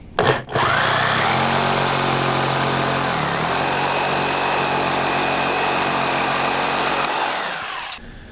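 A power saw whines up after a brief click and runs steadily at high pitch for several seconds, the tone shifting as it bites through wood for model railroad benchwork, then winds down.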